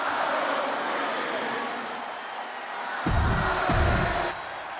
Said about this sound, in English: Just listen to this ovation for the Second City Saint.